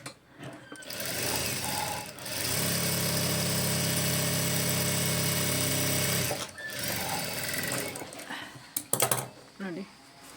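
A sewing machine stitches piping onto a sleeve in two steady runs of rapid mechanical whirring, close and clear, separated by brief pauses with handling noises and a voice speaking.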